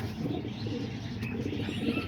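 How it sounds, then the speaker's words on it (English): Baby pigeons cooing in a backyard coop of young pigeons, a soft, continuous murmur of low coos with faint chirps, close by and steady for a couple of seconds, with no talking. "And then up here I got these baby pigeons too."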